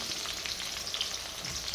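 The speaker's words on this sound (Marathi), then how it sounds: "परत मी फोडणी द्यायला सुरुवात केली त्यामध्ये टाकलेला आहे" Steady, dense sizzling of a cumin, mustard seed and chilli tempering in hot oil, a continuous crackling hiss with small pops, fairly close and even throughout.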